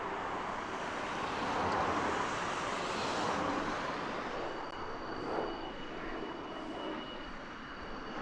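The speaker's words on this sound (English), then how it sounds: "And another F-15 just going over the top" F-15 fighter jets passing overhead at an airbase, a steady broad jet roar at moderate distance that swells and slowly fades, with no one talking.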